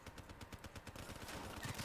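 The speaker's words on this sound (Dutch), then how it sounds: "Hij loopt gewoon te knallen op een muur waarschijnlijk." Rapid gunfire from the video game Black Ops 3 crackles in quick bursts, fairly faint and continuous, without any speech over it.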